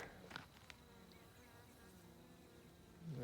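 Wild bees buzz faintly near a hive, a thin, steady insect drone close by but quiet, with a few light knocks of handling and no speech.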